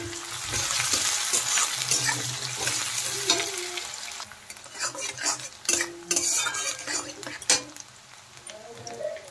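Chopped onion, dried red chili, bay leaf and whole cumin frying in hot oil for a chana masala, a loud steady sizzle with scattered scrapes and clinks of a spoon stirring the pan.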